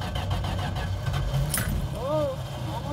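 A manual-transmission car engine cranks in -15°F cold, a rhythmic chugging of the starter for about a second and a half before it catches and changes tone, with a voice briefly audible.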